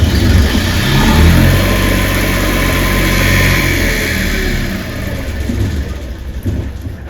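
A diesel engine on a boat's Northern Lights generator cranks and runs loudly with a deep rumble, then winds down and sputters toward the end after too short a glow-plug preheat.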